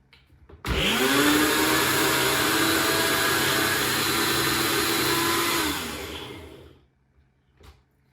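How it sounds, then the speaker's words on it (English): Ninja blender whirring through blueberries for a keto bowl, a loud motor starting abruptly, holding a steady high whine for about five seconds, then winding down to silence. "I'm gonna screw on the lid of my Ninja blender, and I'm just gonna blend that up real quick"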